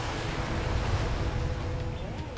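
A cartoon ocean wave rushes and surges in a steady, broad wash of water noise that stays loud and continuous throughout, with no voices over it.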